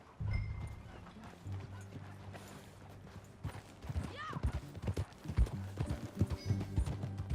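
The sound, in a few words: horse hooves clip-clop in video game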